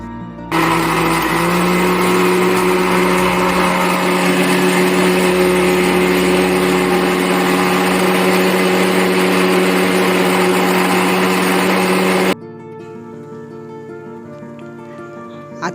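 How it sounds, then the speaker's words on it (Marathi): A kitchen mixer grinder whirs loudly and steadily for about twelve seconds as it grinds coconut, garlic and chili into a paste for Malvani sol kadhi, then cuts off into a quieter room. "आता हे मिश्रण बारीक वाटून घ्यायचं आहे।"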